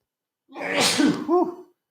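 One close, sharp sneeze with a breathy intake and an explosive release, followed by a short vocal trailing sound, alone in a quiet room during allergy season.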